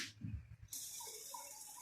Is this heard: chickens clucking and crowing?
no